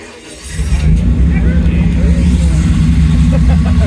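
A replica 1967 Speedster's engine rumbles loudly and steadily at a cars and coffee meet, its deep low throb rising as the revs build, with a faint voice underneath.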